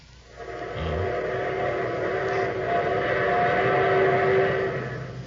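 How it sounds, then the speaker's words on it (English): A train pulls in for a 1946 radio drama scene, a sustained rumble of rolling cars under a long, steady whistle tone that swells and then fades. "There's my train."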